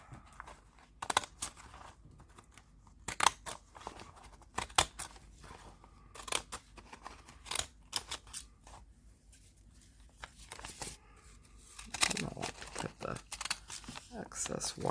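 Scissors snip through gelli-printed paper edged with washi tape, a series of short crisp cuts and paper rustles spaced irregularly, close and fairly quiet, with a denser crinkling handling sound near the end.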